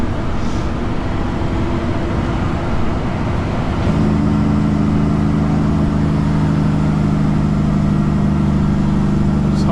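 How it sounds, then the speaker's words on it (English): A truck engine cooling fan switches on while coasting a long load down a bumpy road, a steady mid-pitched roar that thickens into a louder droning hum partway through, over constant road and engine noise. "Engine fan on."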